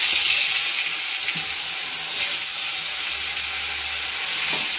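Very hot oil frying in a pan during home cooking, a steady bright sizzle and hiss with faint stirring clinks, no speech.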